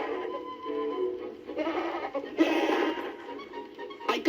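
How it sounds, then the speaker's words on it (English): Wild goats on an island bleating, several wavering calls following one another at moderate distance, with no speech over them. "I found many wild goats."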